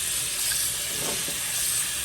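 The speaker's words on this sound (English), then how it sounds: "Give it a rinse out." Water runs steadily while a glass pipe is rinsed out, a constant, close rushing hiss with no break for about two seconds.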